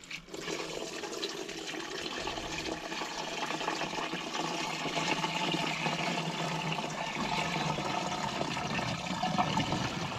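Water poured slowly from a bucket into a sprayer tank while mixing a fungicide solution for tomatoes, a steady continuous splashing and gurgling that runs close and evenly throughout.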